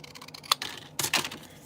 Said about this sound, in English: We are going to cut it. And then we will cut it again.